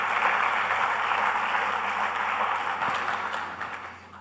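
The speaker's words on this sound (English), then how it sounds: "A big round of applause for him." An audience at a print industry summit gives a sustained round of applause that claps steadily at moderate volume, then fades out toward the end.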